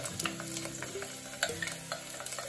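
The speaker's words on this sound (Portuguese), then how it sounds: "E já tenho aqui o fio de azeite, já está quente, e agora vou colocar aqui a cebola." Chopped onion sizzles in hot olive oil in a pan for a risotto with leeks and bacon, a steady close crackle broken by scraping stirs and light utensil clicks, with no talk.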